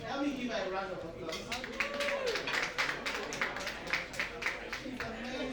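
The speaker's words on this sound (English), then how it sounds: "Toby, please help me give her a round of applause." Scattered clapping from a small audience builds into brief applause, fairly quiet and slightly distant, with voices murmuring underneath.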